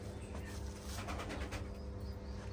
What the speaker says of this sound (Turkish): Bakın bir soy kuş aldık buradan.